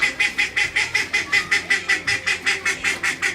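A group of ducks quacks in a rapid, even run of loud, close calls, about four or five per second, continuing without pause.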